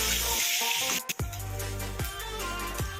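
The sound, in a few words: frying bhol and dried fish in a pan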